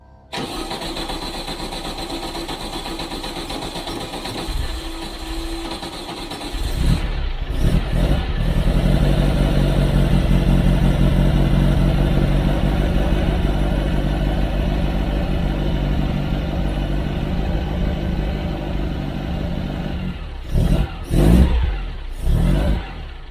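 A Red Bug race car engine cranks and fires, then settles into a loud, steady running note close by, with brief revs and sputters near the end.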